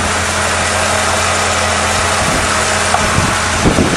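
A 1935 Mercedes engine, never rebuilt and with noticeable blow-by, idles steadily up close, a continuous low rumble with an even hum and no talk.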